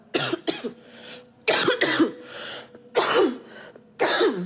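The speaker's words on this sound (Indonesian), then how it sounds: "Aduh, sorry batuk ya." Several harsh coughs come in separate bursts, close and loud, with short quiet gaps between them.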